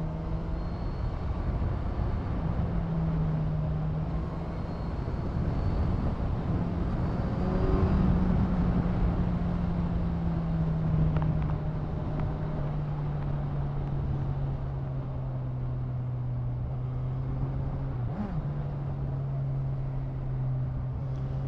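A 2018 Kawasaki Z1000SX sport-touring motorcycle engine hums steadily while riding, a smooth low drone with gentle pitch shifts and faint wind noise, fairly subdued and without voices.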